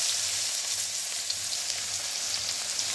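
Black cumin and chopped onion frying in oil in a kadai give a steady, close, broadband sizzle with no voices.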